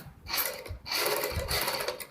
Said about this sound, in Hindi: इस तरीके से हमने सिलाई लगानी है